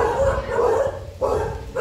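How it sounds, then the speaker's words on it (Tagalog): Several dogs barking outside a house at the New Year, sharp close barks in quick bursts with short pauses between them. "Nandyan ang mga aso."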